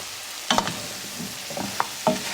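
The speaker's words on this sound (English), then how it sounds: "give my veggies another stir." Vegetables for carrot soup cook gently in a pot over low heat, with a soft background sizzle and a few spoon stirs and knocks against the pot.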